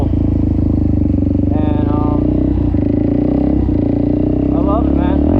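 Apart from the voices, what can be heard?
Suzuki DRZ400SM motorcycle engine running with aftermarket exhaust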